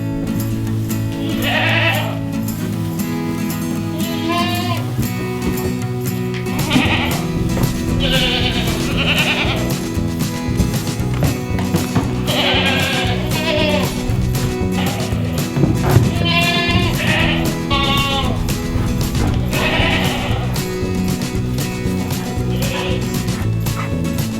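Baby and adult goats on a homestead in extreme cold bleat over and over, a dense overlapping chorus of calls close by with constant livestock commotion and no pause.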